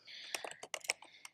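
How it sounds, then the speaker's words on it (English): A computer keyboard is struck in a short burst of about half a dozen quick, close clicks as a Command F shortcut is pressed, with no voices over it. "I'm going to do Command F on the keyboard"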